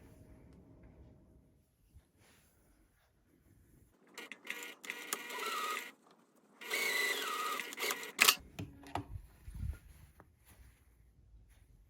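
A sewing machine top stitches the opening of a mini tote bag ornament in two bursts of steady mechanical whirring, close and loud, separated by a pause, followed by light handling clicks.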